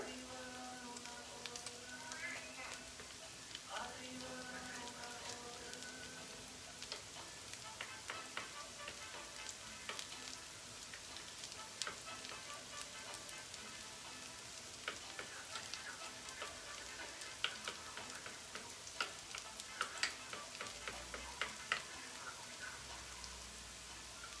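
Grain-free falafel frying in a pan, a steady crackling sizzle with scattered pops, close and fairly quiet, with a voice speaking briefly near the start.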